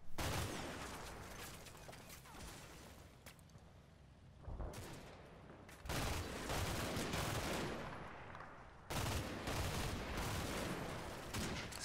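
Gunfire in the tactical strategy game Combat Mission Red Thunder: sustained, dense bursts of shots and rattling fusillades, loud and continuous with brief lulls and renewed volleys.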